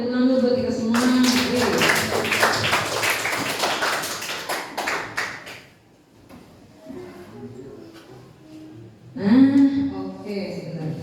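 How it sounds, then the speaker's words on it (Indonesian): A class of students clapping at an Indonesian science lesson, a burst of dense hand claps for about five seconds that fades out, followed by quiet room noise and then a teacher speaking. "tepuk tangan dulu buat kita semua"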